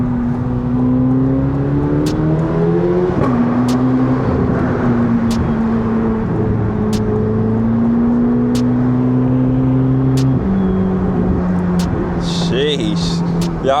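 A 1064 hp Corvette C8 ZR1 accelerating through downtown Chicago, its exhaust droning and rising in pitch through several gear changes, loud and close from inside the car, with occasional talk over it.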